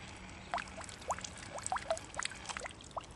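A home-built toy submarine pushes water out, giving a series of small bubbling gurgles and trickles at irregular intervals, faint and close, with no talk.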